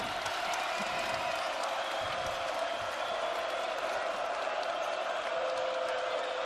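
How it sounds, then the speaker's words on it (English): A college basketball arena crowd, Boise State at Utah State, roars steadily in a continuous wash of cheering with scattered applause and whoops, loud and sustained throughout without a break. "Crowd in a frenzy right now."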